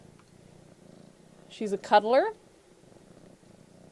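A young adopted kitten purrs in a soft, low, continuous rumble that runs steadily throughout, close by. A person speaks briefly over it midway.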